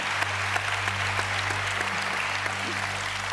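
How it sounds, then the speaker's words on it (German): A studio audience on a German quiz show applauds, a dense, even wash of clapping that holds steady throughout, heard from the room without voices on top. "Das hier ist Ihr Applaus."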